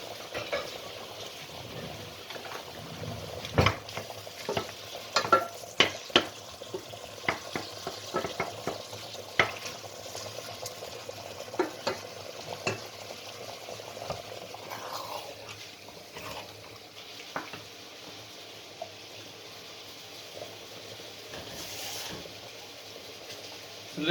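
Aubergine fries in hot oil in a curry kitchen, giving a steady soft sizzle broken by scraping stirs and occasional clatters of a utensil against the pan, at moderate distance with no talking.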